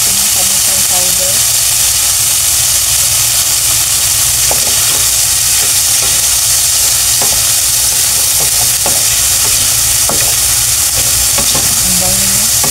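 Boiled pork skin sizzling and being stirred in a pan of Bicol Express base, a steady loud frying hiss with occasional scraping stir clicks throughout.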